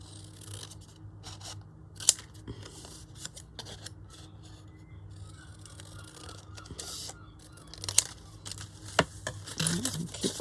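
Scissors cut through paper in a run of small crisp snips and rustles, close by, with a few sharper clicks toward the end over a faint background hum.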